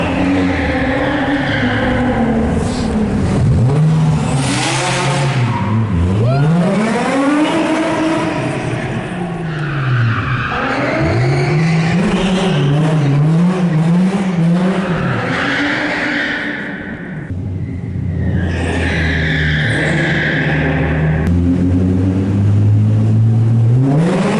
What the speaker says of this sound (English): I'm gonna wait for the Z. I'm gonna drift it.